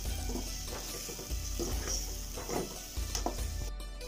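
Blended chicken fries in a pan with a soft, steady sizzle and occasional stirring scrapes, heard close but fairly quiet with no talking.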